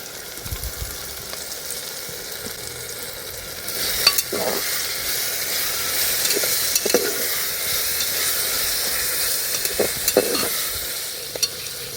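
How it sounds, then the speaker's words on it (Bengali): Masala for ghugni is stirred and fried in a pan with salt, turmeric and chili powder added, giving a steady close sizzle broken by scraping spatula strokes at irregular intervals, with no speech. "মশলাটা কষাতে কষাতে পরিমাণ মতো লবণ আর হলুদটা দিয়ে দেবো আর সামান্য একটু গুঁড়ো লঙ্কা দিচ্ছি"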